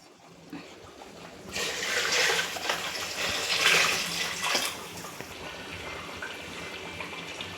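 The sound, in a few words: water poured into pot for chicken dum biryani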